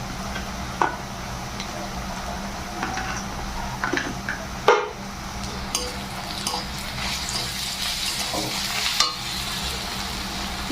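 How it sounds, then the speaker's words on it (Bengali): Garlic paste fries in a pan for a Bengali chicken dish, a steady sizzle over a low hum, with scattered scrapes and knocks of a spoon against the pan and one louder clatter midway. "এবার আমি এখানে রসুন বাটা দিয়ে দেবো রসুন বাটাটা দিয়েও কিন্তু একটু সময় আমি ভাজা ভাজা মতন করে নেব"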